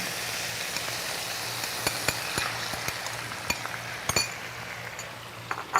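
Diced onion sizzles steadily in a hot pan in an Indian home kitchen, a constant frying hiss broken by a few sharp clinks of a utensil against the pan.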